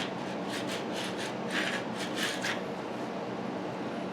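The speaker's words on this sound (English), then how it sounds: "as I'm filing them" A file rubs up and down along the frets of a Squier Telecaster neck, producing a steady rasping scrape in repeated back-and-forth strokes, close and continuous.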